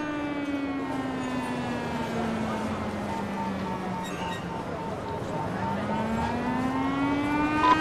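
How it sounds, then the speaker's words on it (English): A disaster warning siren wails in Cities: Skylines after an earthquake is triggered, a loud rising and falling tone sweeping slowly down and back up over a constant background rumble. "So the siren now activates."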